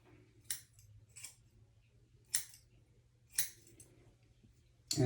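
Scissors snip while trimming hair, with about five short, crisp metallic cuts at uneven intervals, close and clear over a low, quiet hum, no talking.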